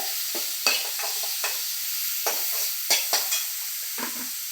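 Green chillies and onions sauté in a pan for a fish curry, with a spatula stirring and scraping in several distinct strokes over a soft, steady sizzle, close and moderately loud with no voices.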